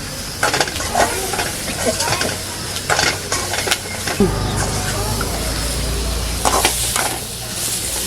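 Shallots and garlic sautéing in a pan give a continuous close sizzle and hiss, broken by scraping stirs and clinks of a utensil against the pan, with a low hum from about halfway on.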